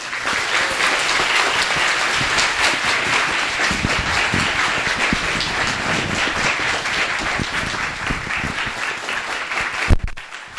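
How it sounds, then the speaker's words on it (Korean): Audience applause greets the Celltrion chairman at a university CEO lecture, a dense, steady roar of clapping that holds for about ten seconds before breaking off with a brief clatter near the end. "큰 박수로 맞아주십시오."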